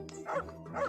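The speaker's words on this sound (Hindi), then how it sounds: "कुत्ता पागल है क्या? मेरा पीछा ही नहीं छोड़ रहा।" A cartoon dog barks twice in quick succession, close and fairly loud, with no talking over it.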